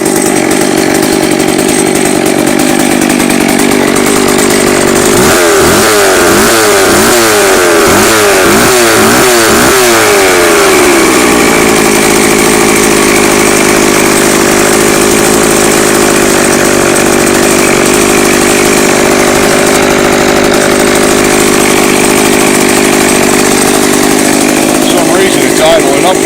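A McCulloch chainsaw is cold started on a chilly 39-degree day; a few sputtering pulls and chugs catch, then the engine settles into a steady, loud, slightly high idle buzz that runs on alone.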